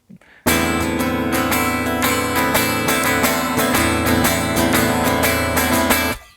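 A muted, percussive guitar strum chugging rapidly across all strings in a steady funky rhythm, loud and close, starting abruptly after a brief silence.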